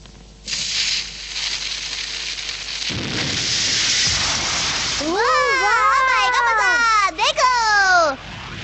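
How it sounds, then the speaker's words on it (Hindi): Cartoon firecracker launching: a steady rushing hiss with a thump, then rising and falling whistling tones sweep in several overlapping squeals before cutting off abruptly. "मैं अपना पटाखा छोड़ता हूँ"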